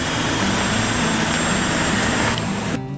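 An automatic car shifted from park into drive and starting to move off, with a steady loud engine roar and broadband rumble throughout that cuts off abruptly near the end.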